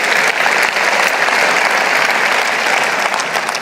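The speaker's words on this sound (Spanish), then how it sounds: "Un aplauso al Señor por esta historia." Loud, dense applause from a church audience, a steady roar of many hands clapping at once that stays full and even from start to finish.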